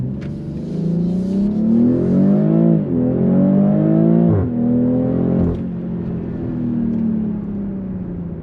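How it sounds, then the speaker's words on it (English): A BMW X3 M40i accelerates hard from a dead stop with a loud, close engine roar rising in pitch through each gear, broken by several quick downshift and shift blips, with no talking. "So we're just gonna smash the gas pedal"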